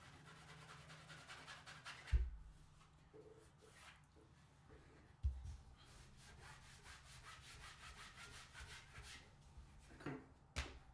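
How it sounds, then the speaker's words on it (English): Gentle light burnishing of a single layer of material for a carry-all clutch, a faint continuous rubbing with soft rhythmic strokes and a few louder thumps, no talking. "got to be real gentle with it since it's just one layer. It's real easy to accidentally fold it over, and we don't want to do that. We just want to do a light burnish."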